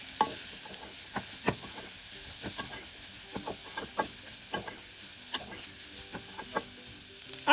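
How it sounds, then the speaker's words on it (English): Ginger and red pepper frying with onions in a pan for chicken rogan josh curry, a continuous hiss and sizzle broken by frequent sharp spoon-against-pan scrapes in an irregular rhythm, close up with no talking. "we're now going to add in the ginger and the red pepper. And we're going to cook this for a further 2 to 3 minutes"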